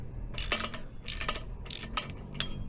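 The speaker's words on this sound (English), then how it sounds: "And these are just 14mm wrenches" A ratchet socket wrench turns a nut in a welding workshop, producing four short bursts of rapid metallic clicking separated by brief pauses, close and fairly quiet.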